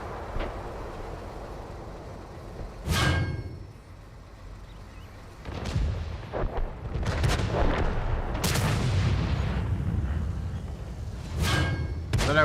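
Tank gun fire in a tank video game: a few heavy booming shots spaced seconds apart, each with a rumbling tail, over a constant low engine and track rumble.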